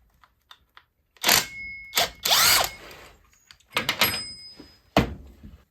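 A power tool with a 15mm socket works at the clutch of a Husqvarna 44 chainsaw. Several short, loud, close bursts of whirring and rattling are separated by near silence and a few small clicks.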